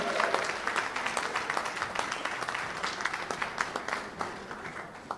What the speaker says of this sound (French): On peut applaudir plus fort, s'il vous plaît, dans la salle.